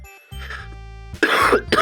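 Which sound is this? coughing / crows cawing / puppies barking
coughing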